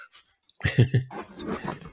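A dog gives a few short, close growls and grumbles in quick succession, fairly loud against a quiet indoor background.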